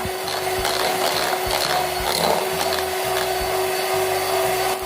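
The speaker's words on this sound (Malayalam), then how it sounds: "ഇലക്ട്രിക് ബീറ്റർ കൊണ്ട് നന്നായിട്ട് ബീറ്റ് ചെയ്യുക" Electric beater whipping cake batter with powdered sugar for a banana cake, a steady loud motor whine with rhythmic pulsing scrapes as the beaters churn through the bowl, running continuously with no talking.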